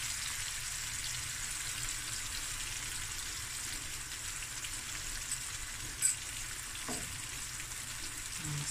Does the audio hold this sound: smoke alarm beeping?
no